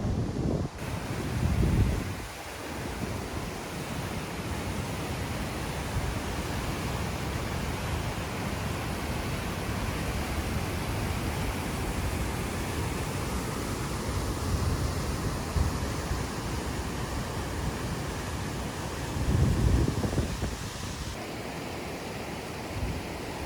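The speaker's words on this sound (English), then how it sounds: "Must have a pretty good waterfall over here." Waterfall and rushing mountain water along the Muir Pass trail in the Sierra, a dense continuous roar of falling water mixed with wind buffeting the microphone, loud and steady throughout.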